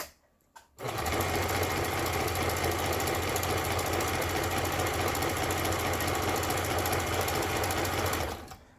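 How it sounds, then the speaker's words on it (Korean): Lion Hi9500 household sewing machine running an overlock stitch, a fast steady mechanical rattle starting abruptly after a short pause and continuing loud and close for about eight seconds before cutting off. "요즘 많이 사용하는 옷감의 가장자리 풀리지 않도록 해주는 예, 오버록 패턴의 바느질을 해보도록 하겠습니다."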